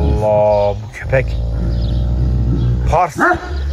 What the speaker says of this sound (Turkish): Allah Allah. Bu köpek.